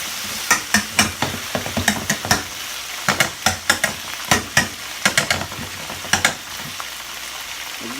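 Pork chops sizzle and spit in a hot frying pan, a steady crackling hiss broken by frequent sharp pops and stirring clicks, close and continuous with no voices.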